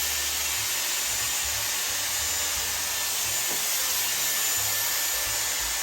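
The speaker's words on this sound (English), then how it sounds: "it's a a hairbrush with a blow dryer attached" A steady, loud whooshing hum of a Dyson Airwrap hot air brush dryer blowing continuously, with no voices.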